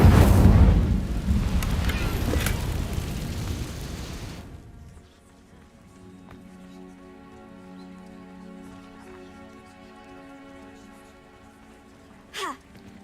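Incendio fire spell cast in the video game Hogwarts Legacy, a loud roaring, crackling burst of flame lasting about four seconds and then cutting off into quiet, with a voice speaking faintly afterward.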